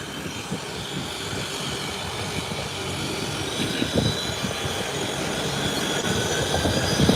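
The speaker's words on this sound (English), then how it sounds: "Both engines are fully powered," Two aircraft propeller engines run at full power ahead of taxiing, making a broad, steady roar that grows gradually louder over the clip, with no voices.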